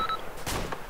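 Gunfire aimed at the player in Arma II, a couple of short, sharp bursts of shots landing close together over a faint background.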